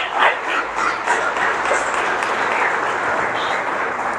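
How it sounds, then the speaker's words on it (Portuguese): Church congregation giving loud applause during a service, a dense burst of clapping from many hands that swells at the start then settles into steady sustained clapping. "Dê um forte aplauso"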